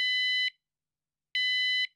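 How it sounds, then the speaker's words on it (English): A Van Guardian pipe carrier alarm gives two short, loud, piercing electronic beeps with a brief gap between them, followed by silence. "Two beeps will sound if successfully set"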